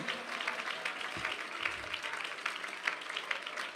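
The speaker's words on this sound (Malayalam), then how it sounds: "കൈയടിക്കുന്നെങ്കിൽ നേരെ കൈയടിക്കണം." A church congregation claps together in a steady burst of applause that fills the room at moderate distance and runs without a break.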